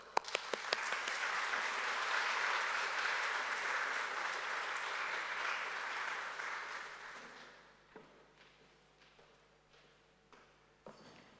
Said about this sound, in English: So please help me welcome her with a great round of applause.